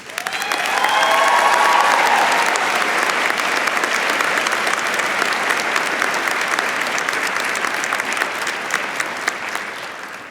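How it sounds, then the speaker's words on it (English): A large audience at a university commencement ceremony gives a loud, resounding round of applause that swells quickly and holds steady, with scattered sharp claps standing out as it slowly tapers. "give those people in our lives who got us here today a resounding round of applause"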